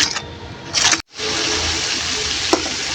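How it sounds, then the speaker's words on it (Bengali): Spice paste fries in oil in a pan for a Bengali curry of silver carp and green banana, with a loud, constant sizzle and scraping stirs. A short break in the sound comes partway through. "এখন আমি নেড়ে চেড়ে কিছুক্ষণ ভালো করে সুন্দর করে কষিয়ে নিব"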